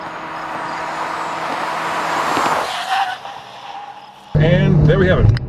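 A 2014 Chevy Volt brakes hard at the end of a hot lap, a rising roar of road and tire noise that cuts off abruptly before a voice comes in.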